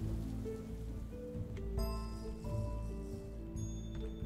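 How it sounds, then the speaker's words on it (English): Steady rain falling in the Minecraft video game, a continuous soft patter that runs unbroken and fairly close throughout, with faint game tones layered over it and no voices. "as soon as this rain stops"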